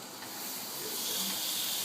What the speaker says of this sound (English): we're going to throw on the first piece of meat. There it is. And again, we want to look for that nice sizzle.